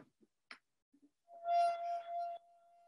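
A finger rubbed around the rim of a wine glass, a few soft taps and squeaks first, then a clear sustained ringing tone that swells for about a second and fades, close and quiet.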